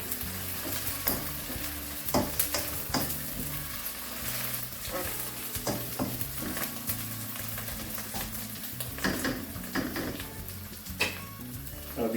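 Ginger garlic paste frying and being stirred in a pan for a curry, a steady sizzle broken by frequent scraping clinks of the spoon against the metal, close and fairly quiet with no talk.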